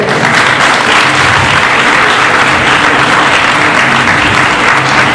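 Loud, dense audience applause fills a hall at the close of a stage hypnosis show, steady and sustained throughout without any break.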